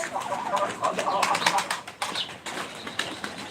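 Pigeons in a loft, part of a flock of about fifty birds, give brief flutters of wings and soft calls close by, mixed with nearby shuffling and background voices.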